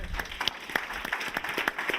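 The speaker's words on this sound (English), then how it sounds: "Round of applause." A tech-conference audience applauds, a brief burst of scattered, fairly close claps over a soft crowd wash.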